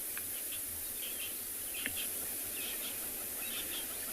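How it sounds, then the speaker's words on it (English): Birds calling in the South African bush on a morning safari, faint scattered chirps and short calls at a distance over a soft steady background hiss, with insect-like trills in between. "listening to the sounds of the birds in that direction"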